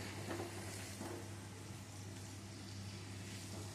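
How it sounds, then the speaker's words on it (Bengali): Spice paste (masala) with fried potatoes for gathi kochu curry fries on low heat in a pan, a faint, steady sizzle with occasional soft stirring scrapes and no talking. "মশলাটা কষিয়ে নেবো"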